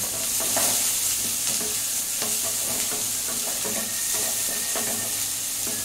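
Onions sauté over a medium flame in a pan for semiya upma, with a steady, bright sizzle and repeated scraping strokes of a spoon stirring throughout.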